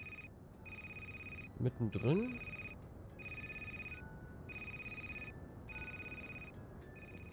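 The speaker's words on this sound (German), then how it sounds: "Klingelt ein Telefon, da gehen wir nicht sofort ran." A telephone rings repeatedly in the Christmas horror game Crimson Snow, steady evenly spaced electronic ring bursts at moderate volume, with a voice speaking briefly over one ring.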